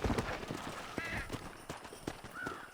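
Horse hooves clip-clop steadily at a close, even pace in the Red Dead Redemption 2 video game, with a few short bird-like chirps above the steps.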